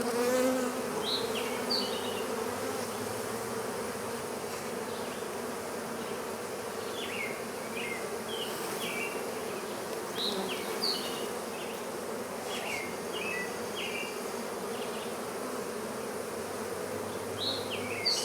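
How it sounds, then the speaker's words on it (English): A swarm of honey bees buzzes steadily from a cat house, a dense continuous drone close by, with scattered higher chirps and tones heard faintly in the background throughout. "It's actually amazing how heavy a little handful of bees truly is on your hand."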